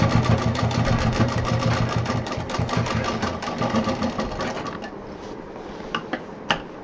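Industrial sewing machine stitching the side wall of a large backpack, a steady fast mechanical whir with rhythmic needle clatter that runs for several seconds, then slows and stops, leaving a few isolated clicks.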